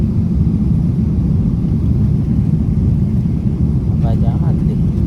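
Inside an airplane cabin during the climb after takeoff on a flight from Mumbai to Hong Kong, a loud, steady low roar and rush fills the whole span, with a faint voice near the end.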